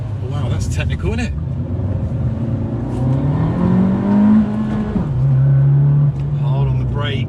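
A 2020 Abarth 695 70th Anniversario accelerates hard on a tight circuit, its engine note loud and close, climbing in pitch through the gears with a brief dip at a shift, while a voice is briefly heard at the start.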